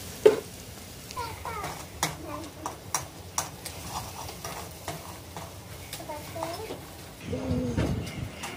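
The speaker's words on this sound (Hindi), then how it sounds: "लहसुन फ्राई हो रहा है" Garlic frying in a pan in a home kitchen, a low steady sizzle with scattered stirring clicks and scrapes, voices talking faintly in the background.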